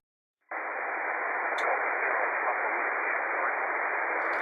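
Steady band hiss from an amateur radio receiver, a loud unbroken wash of static that starts abruptly and holds constant, with a couple of tiny clicks over it.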